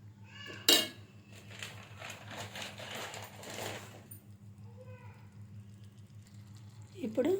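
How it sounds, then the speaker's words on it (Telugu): Broad beans (chikkudukaya) being stirred in a pan with tomato masala curry: a sharp metallic clink from a spoon against the pan, then soft scraping and stirring under a low steady hum, with another clatter at the end. "ఈ టమాటా ఫ్లేవర్ అంతా, మసాలా ఫ్లేవర్ అంతా చిక్కుడుకాయకి పట్టేలాగా మొత్తం మిక్స్ చేసుకుందామండి"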